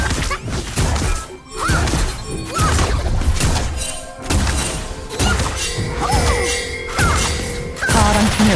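A turret being destroyed in League of Legends, with a loud shattering crash followed by more crumbling impacts and game effects over roughly eight seconds, with an in-game announcer voice.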